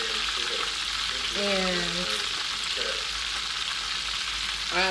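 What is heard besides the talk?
egg rolls frying in oil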